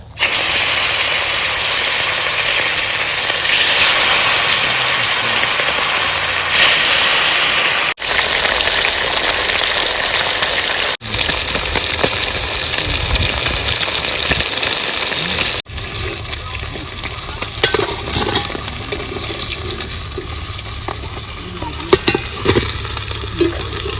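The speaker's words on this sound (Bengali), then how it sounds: "বন্ধুরা তেল গরম হয়ে গেছে মাছ ভেজে নেবো" Fish fries in hot oil with a loud, steady sizzle and hiss close by, cut by a few abrupt breaks and followed by spattering, stirring and scattered clicks near the end.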